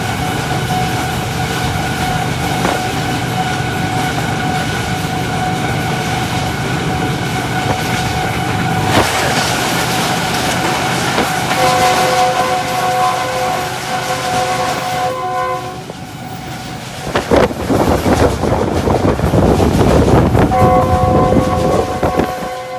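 Tezgam Express passing another express train at full speed, a loud sustained rumble of rushing wheels and carriages with long sounding horn blasts and a sudden surge of noise as the trains cross.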